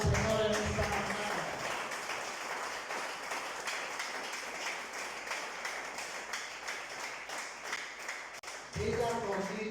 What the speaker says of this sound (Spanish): Dé un fuerte aplauso al Señor en esta mañana.